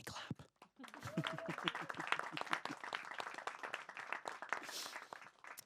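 Audience clapping at a talk event on borders and city design, a scattered patter of hand claps that swells into steady applause and carries on for several seconds.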